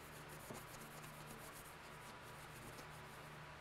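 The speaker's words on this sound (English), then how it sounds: "We take your bullet and we scrub it on there just as hard as we can rub." A coated bullet is rubbed hard on an acetone-soaked cloth, giving a faint, steady scrubbing friction with quick repeated back-and-forth strokes, close and quiet with no talk.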